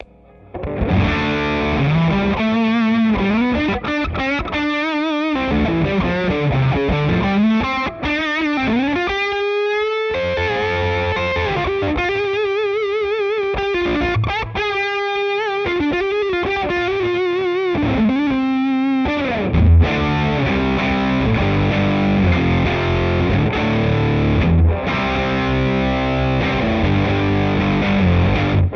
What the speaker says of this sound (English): Now let's turn the gain up all the way.